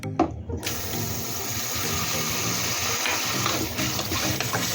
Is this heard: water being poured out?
yes